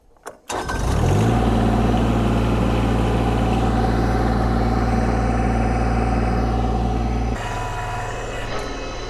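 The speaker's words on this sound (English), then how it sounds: "So let's get started on this driveway with this 4-foot box blade and old Ladybug." A subcompact tractor fitted with a 4-foot box blade starts up with a brief crank, then its engine runs loud and steady close by, the pitch dropping slightly near the end.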